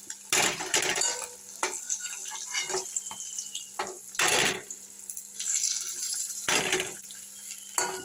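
Fried shol (snakehead) fish being lifted from a hot pan into a bowl, with clinking utensil scrapes and dish knocks over a soft ongoing sizzle, several distinct close metallic clatters spaced irregularly.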